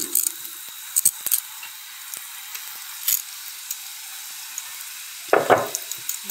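Nimki dough pieces fry in hot oil with a soft, steady sizzle. Scattered light clicks and taps, probably from a utensil, break through, and a louder bubbling flare comes near the end.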